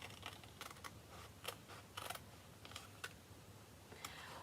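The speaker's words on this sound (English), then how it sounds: "I'm going to bring in my paper scissors and follow the" Paper scissors snip along a printed design in fussy cutting, giving quiet, irregular crisp clicks and short snips spaced close together, faint and near, with no talking.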